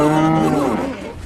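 A single cow gives one loud, close moo, a drawn-out tone that slides downward and fades within about a second.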